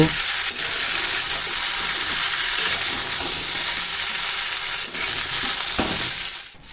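Potato, papaya, ridge gourd and other vegetables fry in a pan for a light fish curry, with a loud, dense, continuous sizzle, occasional stirring clicks, and a tapering fade at the end.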